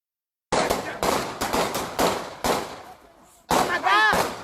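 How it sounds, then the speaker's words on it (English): A street police shooting in which several officers open fire. A rapid string of sharp gunshots rings out in uneven bursts, loud and echoing, with a pause before more shots and a shouting voice near the end. "captures the gunshots that follow"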